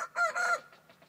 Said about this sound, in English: in case you're wondering, my little rooster over there,